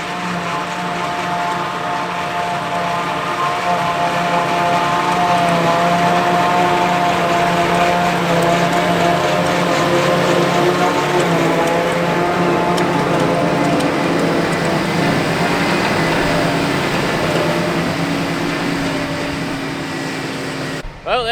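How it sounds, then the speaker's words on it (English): A big forage harvester chopping first-cut grass in a field, a steady loud engine drone with sustained mechanical hum, heard continuously for a long stretch with a brief disturbance at the very end. "there she is, big old chopper, going off down the field"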